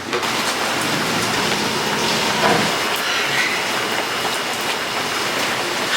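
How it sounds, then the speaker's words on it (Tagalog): Heavy rain falling outside, a loud, steady, dense wash of noise that continues without pause throughout, with no talking. "Patuloy pa rin lumalakas ang ulan"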